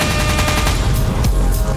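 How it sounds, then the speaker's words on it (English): Gunshot sound effects play on a comedy podcast as a dense, continuous burst of rapid fire, loud and close, filling the whole moment with no talking over it. "Those are the most gunshots I've ever heard on the podcast."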